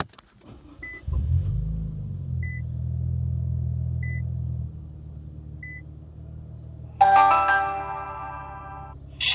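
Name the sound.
car engine starting with super loud exhaust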